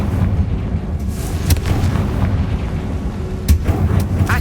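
A Confringo blasting spell explodes in Hogwarts Legacy, with sharp booming bursts near 1.5 and 3.5 seconds over a dense, continuous rumble of combat noise.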